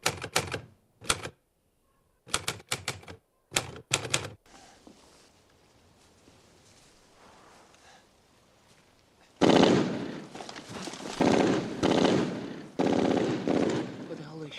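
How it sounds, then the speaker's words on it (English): Machine gun fire from a Band of Brothers war drama episode comes in sharp, loud bursts at the start. A quieter rumbling stretch follows, then a long stretch of dense, heavy, continuous shooting. "What the hell are they shooting at?"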